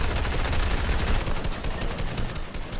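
Sustained rapid gunfire in a video game fills the whole stretch, dense and loud, as a target is shot down, with no break in the shooting.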